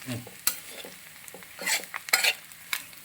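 Fish pickle being stirred and mixed with ground fenugreek and mustard, giving scattered wet scraping and spoon clinks against the container, with a few sharper knocks and no voices.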